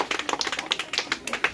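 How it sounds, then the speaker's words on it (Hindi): Schoolchildren clap at a school welcome event for the first pupils to arrive, a quick run of sharp, fairly close claps in a steady patter lasting under two seconds, with no voices over it. "ताली बजाइए इसके लिए।"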